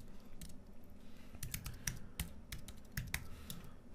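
Someone types code steadily on a computer keyboard, producing a quick, uneven run of crisp key clicks with a few louder strikes. The clicks sound close and clear over a faint background hum.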